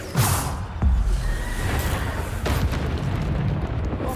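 A Bombarda explosion spell in Hogwarts Legacy goes off with a deep boom, followed by several more blasts and whooshing bursts over a continuous rumbling game backdrop.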